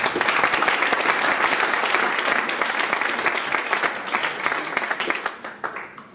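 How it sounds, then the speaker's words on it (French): Loud, dense audience applause at a French conference on RCS and messaging apps, a full wash of clapping that holds steady and then thins and fades away toward the end. "on fait des applaudissements"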